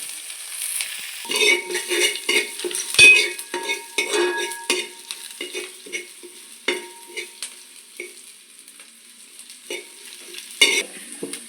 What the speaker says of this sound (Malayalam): ഇഞ്ചി പച്ചമുളക് വെളുത്തുള്ളി ശകലം കറിവേപ്പില ഒന്ന് വഴറ്റിയെടുക്കാം